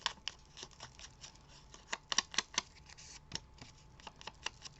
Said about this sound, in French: On déchire.